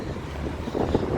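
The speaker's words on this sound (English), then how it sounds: "it's getting quite windy as well" Blustery wind buffets an outdoor microphone in a steady low rumble that gusts louder toward the end, with no voices present.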